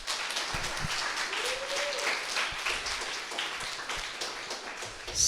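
Audience applause at a data science bootcamp demo day, a dense, steady clapping that runs throughout at even loudness, with a faint voice briefly audible.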